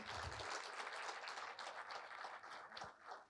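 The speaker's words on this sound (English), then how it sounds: "So please give him a huge round of applause once again." Lecture audience gives sustained applause for a distinguished educationist and former UPSC chairperson at a university event, a steady wash of many hands clapping at moderate level.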